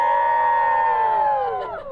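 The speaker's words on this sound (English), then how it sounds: "I think we had a good crowd cheer." A wedding crowd lets out a sustained, loud cheer with blended voices shouting together, tapering off after about a second and a half.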